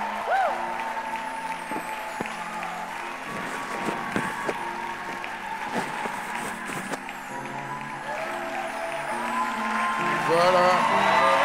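Church congregation applauding and cheering to welcome a pastor, a steady wash of clapping with scattered whoops and voices, swelling louder toward the end.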